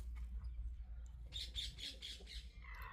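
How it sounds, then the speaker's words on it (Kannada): A parrot gives a quick series of about five harsh squawks, moderately close, over a low rumbling background hum in a rural village setting. "ಗಿಳಿ ಹೋತ್ ನೋಡ್ರಿ ಗಿಳಿ ಹೋತು"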